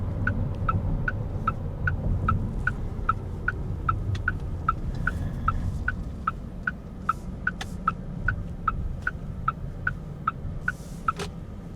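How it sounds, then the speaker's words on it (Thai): Turn signal indicator in a Geely EX2 Max electric car, ticking in a steady, even rhythm of sharp clicks, roughly three per second, loud and close inside the cabin over a low road hum. "คันนี้นี่เสียงไฟเลี้ยวเนี่ยเขาดังดีเลยนะคะ"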